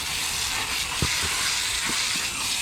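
An automatic car wash rinses a 2023 Acura Integra, giving a loud, continuous hiss of spraying water with a few faint thumps underneath.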